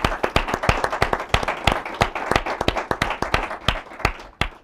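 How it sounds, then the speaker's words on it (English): Audience applause for panelists at a retirement security policy event, a dense run of individual hand claps with sharp distinct strikes, moderately close, fading toward the end. "Would you join me in giving those guys a round of applause?"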